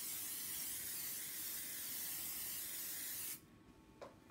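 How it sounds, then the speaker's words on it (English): Spray adhesive is sprayed onto a screen printing pattern in a continuous loud aerosol hiss for about three seconds, then cuts off abruptly, followed by a faint click. "Using Keywall spray adhesive, coat the pattern."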